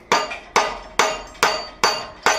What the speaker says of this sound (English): I'm using a heavier hammer, and we've got it quite hot